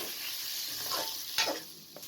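Chicken fries with onions, ginger, garlic and spices in a close, steady sizzle, broken by scraping stirs and brief clinks, with no talking.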